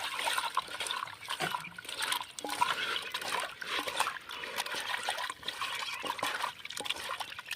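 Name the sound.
washing chicken in water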